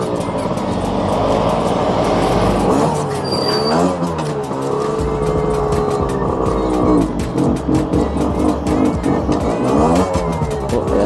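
A car engine revs loudly and close by, rising and falling repeatedly with rough, throaty pulses while struggling at a low idle near stalling, amid a place with many cars.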